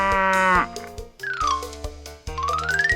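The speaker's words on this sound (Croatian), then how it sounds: "Tako je, to je krava." A cow moos in a children's animal-guessing show: a few loud, drawn-out lowing calls close by, each bending in pitch, with short gaps between them.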